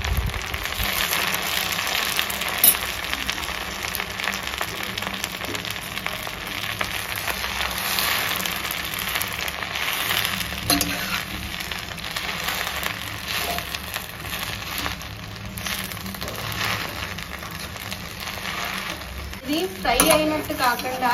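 Gongura leaves cook gently in a little oil in a pan, giving a steady soft sizzle with faint crackles throughout. Someone speaks over it now and then.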